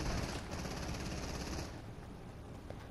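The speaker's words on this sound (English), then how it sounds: "You're getting shot at." Rapid gunshots are fired at the player in Fortnite, a dense, fairly faint stream of shots that thins out slightly partway through.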